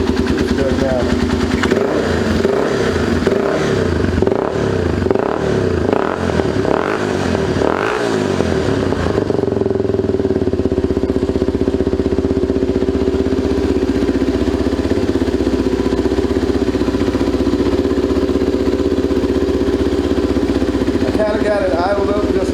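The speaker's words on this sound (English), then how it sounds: "Got it idled up just a little bit high because I was letting that seafoam work through." A 2004 Yamaha TT-R 250 dirt bike runs close and loud, held at a slightly high idle with the choke off. Repeated rising and falling revs come first, then the engine settles into an even, steady idle.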